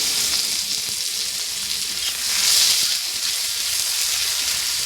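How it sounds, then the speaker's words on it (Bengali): Onions fry in hot oil with a steady, close, loud sizzle that swells briefly midway, with no voices over it. "তেলে দিয়ে দেবো পেঁয়াজ।"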